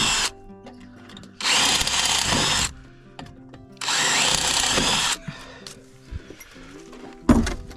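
A power drill with Mac drill bits whirs loudly in two sustained bursts of a second or more each, with quieter clunks and handling noises between and after, while building a goat-proof door.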